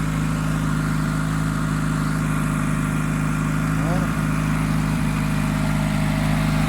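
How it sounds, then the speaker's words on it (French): A gasoline car engine idles steadily just after a cold start, a constant low hum with a brief tonal shift near the middle and a short thump later, loud and close with no talk. "Je sais pas si souvent les moteurs essence, même enfin dans les vidéos ça donne pas une belle sonorité, mais franchement ça va, j'aime bien."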